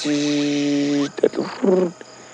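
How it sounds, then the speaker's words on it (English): An insect-like frog call, a steady buzzing trill with bright harmonic bands, followed by a few short ticking clicks and brief croaks. "at the end of the puddle frog's call, it goes tick, tick"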